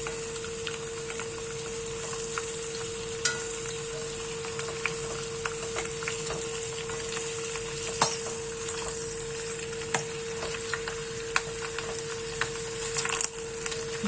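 Pieces of rabbit sizzle steadily as they brown in a pan for a classic hunter-style stew, a constant close frying hiss with scattered crackles and pops and occasional faint utensil scrapes, no talking.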